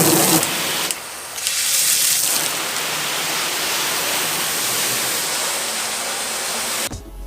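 Water sprays steadily onto a pickup truck stepside bed during bodywork prep, a loud continuous hissing rush with a brief dip near the start and an abrupt cut at the end.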